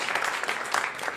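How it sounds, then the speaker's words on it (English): Audience applause at a live stand-up comedy show in a comedy club, a steady dense wash of clapping heard briefly with no voices over it, ending in a sudden louder thump. "Pre-applause, I like it."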